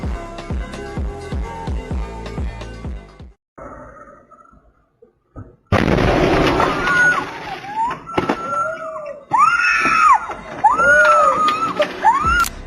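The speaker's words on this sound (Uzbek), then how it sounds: "Bu albatta propanda portlagan." A propane gas explosion strikes as a sudden loud blast after a stretch of music and near silence, followed by a long, harsh rumbling roar and rising screams or shouts from people nearby.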